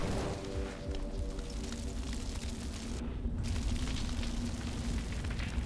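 A fire set alight in Far Cry Primal burns with a dense, roaring crackle and rumble, steady and fairly loud throughout, briefly dropping in the higher range midway.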